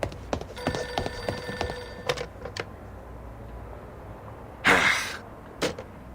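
A telephone rings in the video game Reverse 1999, a run of sharp, repeated bell trills in the first seconds, followed by scattered clicks and a short bright burst near the end.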